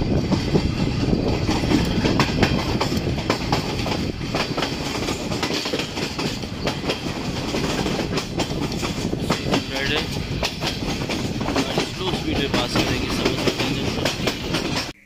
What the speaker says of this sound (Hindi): गाड़ी अप्रोच कर रही है समरसट्टा जंक्शन रेलवे स्टेशन पर